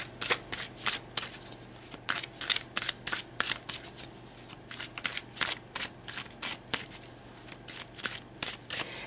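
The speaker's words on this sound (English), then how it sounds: "So let's pull some more cards." A deck of tarot cards is shuffled close up in quick repeated riffles and flicks, each burst crisp and papery, following one another in a fairly regular rhythm against a faint steady hum, with no talk.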